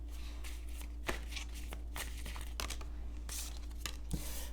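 Tarot cards are shuffled close by, a run of soft papery riffles and crisp snaps at irregular intervals over a low steady hum, with no one talking.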